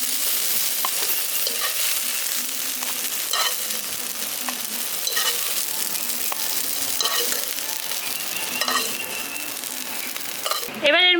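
Soybean chunks fry and get stirred in a pan for soybean korma, with a steady close sizzle and repeated scraping stirs. Near the end comes a brief bright clatter.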